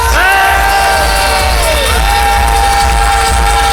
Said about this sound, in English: Keep that applause going, people.